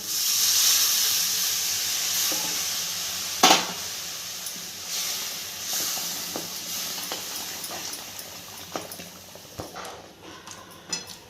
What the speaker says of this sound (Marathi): थोडंसं गरम पाणी सोडते याच्यात